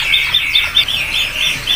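A barking quail calls at a bird-market kiosk: a close, steady run of bright, repeated chirps about twice a second, with a faint background hum and no voices.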